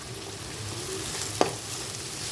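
Sliced onions fry in hot oil with rock salt and turmeric, a steady close sizzle with a single sharp utensil tap partway through.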